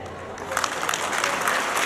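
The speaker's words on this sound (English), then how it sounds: "with a huge round of applause, we welcome you, dear sister" Audience applauding at a school annual function, a patter of many clapping hands building slightly in loudness, with a voice speaking over the start.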